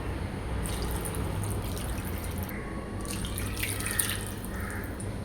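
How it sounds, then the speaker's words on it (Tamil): Water poured from a cup into a bowl of rava (semolina) while making onion rava dosa batter: a steady, close splashing and trickling stream that runs for several seconds without a break. "இப்போ நம்ம 2 கப்பு தண்ணி சேர்த்துருக்கோம்"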